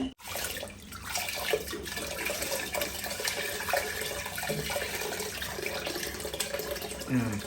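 Tap water runs steadily in a home kitchen while rice is rinsed a second time, a continuous splashing stream with a few louder gushes and clatters near the end.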